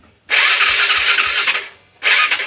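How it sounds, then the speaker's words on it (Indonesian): Motorcycle electric starter cranking in two loud, close bursts, a long one and then a short one, while the engine fails to catch. "sampai 5 sampai 10 kali di starter tuh gak hidup"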